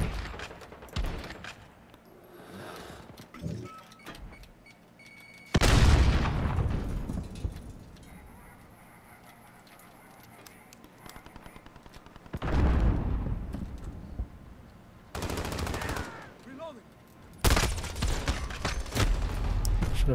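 Gunfire in Call of Duty multiplayer comes in repeated bursts, with heavy booming volleys and rapid automatic fire separated by quieter stretches of distant shots and game ambience.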